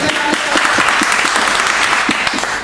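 A church congregation claps together in sustained, dense applause that fills the whole moment at steady loudness, with a few sharper individual claps standing out and no voices above it.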